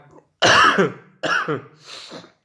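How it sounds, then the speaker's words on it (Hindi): Three harsh coughs from a presenter with a slight cough, close to the microphone and loud, separated by short pauses, with the last one fainter. "थोड़ी सी खांसी की दिक्कत है लेकिन फिर भी काम जारी है।"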